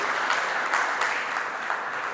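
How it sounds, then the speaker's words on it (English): An audience at a population lecture applauds a distinguished senator, dense steady clapping filling the room for a couple of seconds, with no talk over it. "Please have a round of applause for the distinguished senator there."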